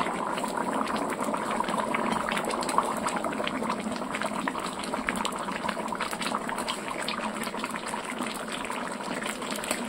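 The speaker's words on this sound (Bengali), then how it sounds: "টক বগিয়ে ফুটছে একদম" A pot of meat curry bubbles and boils steadily on the stove, a dense, continuous burble of simmering liquid heard close and fairly loud throughout, with no talking.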